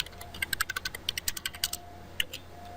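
Fingers type on a computer keyboard while configuring a Cisco ASA 5510 firewall, a quick irregular run of crisp clicking keystrokes close by, pausing briefly before a final few taps.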